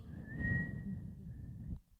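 A soft, steady whistle held for over a second over a low rumble, made by a person imitating a gentle whistle, then cutting off.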